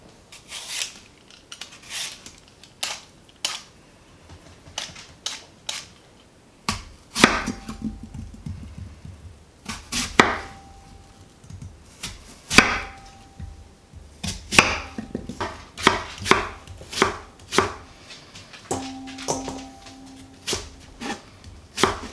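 Granny Smith apples are peeled, cored and chopped into small slices on a board. Scattered knife scrapes and rasps are followed by a quicker run of sharp, close chopping knocks that grow denser toward the end.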